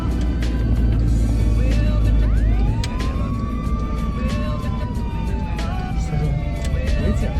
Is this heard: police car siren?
yes